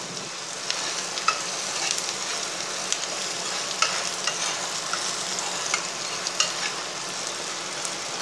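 Onions sautéing in a pan for a Tamil banana flower poriyal, a steady close sizzle with light, irregular stirring scrapes and no talking.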